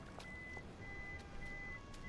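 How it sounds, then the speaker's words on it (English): Reversing beeps from a vehicle in the video game We Happy Few sound in a repeating pattern of steady electronic tones, moderately loud over a low rumbling background with no speech. "Got a really annoying beep around here somewhere"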